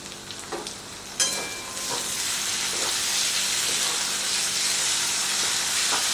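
Sliced tomatoes with salt fry in a pan with a loud, broad hissing sizzle that swells after a sharp clatter, with intermittent scraping from stirring throughout.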